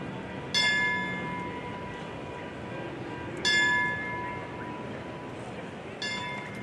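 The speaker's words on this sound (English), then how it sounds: "we will toll the bell 3 times for them." A bell tolls three times at a Pacific Palisades fire memorial rally. Each strike rings out clearly and slowly decays, spaced about three seconds apart over a soft outdoor crowd murmur.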